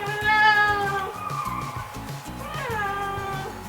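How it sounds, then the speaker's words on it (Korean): A cat meows twice, with a drawn-out wavering cry near and fairly loud over a rumbling, buzzy background indoors. "고양이 난입."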